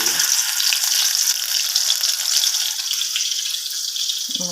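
Bitter gourd pakoras coated in besan and maida batter fry in hot oil, a loud continuous bright hiss and bubbling sizzle that holds steady throughout, close up with no talking.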